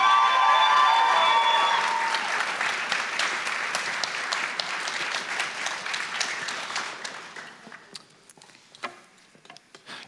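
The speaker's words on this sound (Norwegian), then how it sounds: "Varm applaus!" Warm applause from the audience at a Norwegian youth party leaders' debate at Arendalsuka, a full round of clapping that thins toward the end into a few scattered claps.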